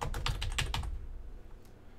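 Quick, close keystrokes on a computer keyboard come in a short burst of about a dozen clicks, then stop and leave a quiet room.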